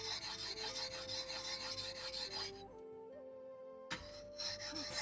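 An axe blade is rasped across a whetstone meant for kitchen knives, giving a steady gritty scraping that stops briefly partway through and then resumes, with no talking.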